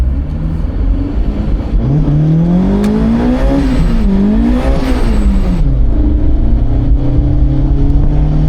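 A supercharged Honda S2000 accelerates hard on a quarter-mile run, its loud engine climbing through the revs, dipping briefly at a shift, then pulling up again with a sustained whine.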